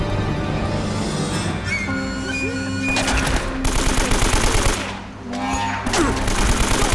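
AK-47 automatic fire in Uncharted: Drake's Fortune Remastered, heard as loud, close rattling bursts of several rounds each, separated by short pauses, over a steady background of game ambience.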